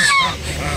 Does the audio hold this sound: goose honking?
yes